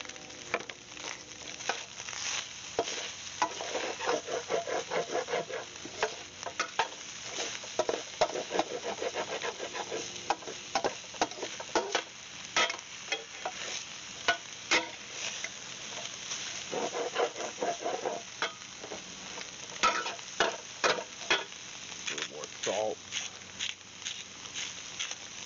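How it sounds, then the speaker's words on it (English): Chopped peppers and onions brown in a pan for loaded nachos, with a continuous crackling sizzle and repeated scraping strokes of a utensil across the pan. "Brown this up. Add chopped peppers and"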